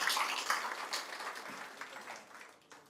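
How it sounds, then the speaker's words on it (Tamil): An audience at a gathering applauds. A fairly dense crowd of hands claps steadily, then slowly thins and fades toward the end. "அதற்காக நாம் அனைவரும் மிகப்பெரிய கைத்தட்டி உற்சாகப்படுத்த வேண்டும்."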